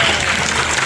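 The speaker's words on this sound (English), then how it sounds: "Give that answer a round of applause." Studio audience applause, a brief dense burst of clapping that stays loud and even for under a second.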